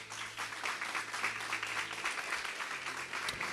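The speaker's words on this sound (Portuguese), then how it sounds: "Vamos aplaudir Jesus." A standing church congregation claps during a worship service. The applause is soft and distant, a steady wash of many hands with no voice over it.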